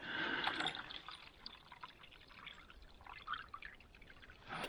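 Water with ice being poured into a cup at a campground in Alaska, a soft, quiet trickle and splash that swells at the start, fades through the middle and rises again at the end.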